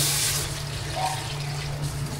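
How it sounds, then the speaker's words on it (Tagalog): Water runs into a cooking pot in a continuous, even stream for a couple of seconds over a low background hum. "Lagyan na po natin ng tubig."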